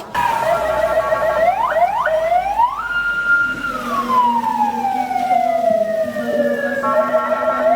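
A loud fire engine siren wails close by during an emergency response drill, sweeping up and down in pitch several times before a long falling tone, with no voices.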